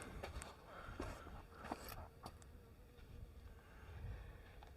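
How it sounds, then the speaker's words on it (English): A bee buzzes faintly in a sandy Mojave Desert ghost town, a thin intermittent drone that comes and goes amid quiet outdoor rustling and light footsteps. "I hear a bee."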